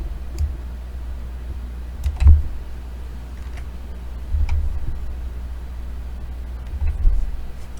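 Typing on a computer keyboard gives sparse, uneven clicks and taps at close range over a low steady hum, with a few louder keystrokes standing out.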